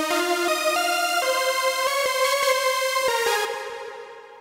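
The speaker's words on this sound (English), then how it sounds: "Today we're going to be looking at a nice warm lead sound" A warm sustained lead synth patch made in Massive plays a short melodic line of bright, harmonically rich held notes, loud and alone, fading out at the end.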